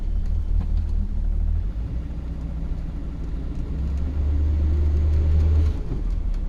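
A 1966 Ford Galaxie 500 convertible engine runs steadily at idle, a close, continuous low rumble that swells slightly in the middle, with no talking.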